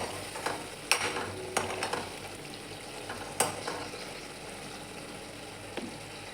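Drumstick pod masala vegetable, a dry sabzi, cooks on full gas, giving a steady low sizzle with a few sharp stirring clinks and scrapes at irregular intervals, close and fairly quiet.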